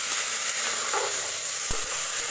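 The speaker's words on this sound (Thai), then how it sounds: "คั่วผัก" Marinated vegetables stir-frying for veg biryani, a steady close sizzling hiss with a brief utensil tap.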